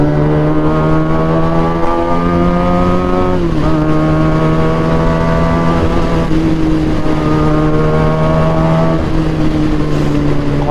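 A car engine close by with a loud, steady, strongly tonal exhaust note, dipping briefly around a gear change, then holding a high rev before easing off near the end.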